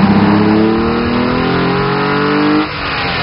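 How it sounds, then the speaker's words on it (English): A 2010 Hyundai Genesis 3.8 GT Coupe with its 300-horsepower engine revs loudly and steadily while driving, the pitch rising through a gear before dropping sharply near the end as it shifts. "I'd love to show you what the Genesis drives, shifts, and sounds like with a quick montage"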